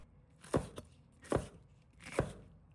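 Knife chopping a red chili pepper into small pieces on a board, three distinct sharp chops spaced under a second apart, close and clear with no talk.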